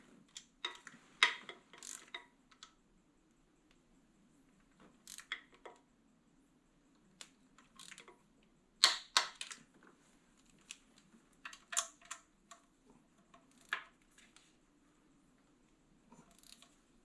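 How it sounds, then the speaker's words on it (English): A torque wrench tightens the oil filter housing bolts on a 3.6 L Dodge Caravan or Chrysler Town & Country, giving sparse bursts of quick ratcheting clicks separated by pauses, close and fairly quiet, with no talking. "you take a torque wrench. We're going to go to 106 inch-pounds"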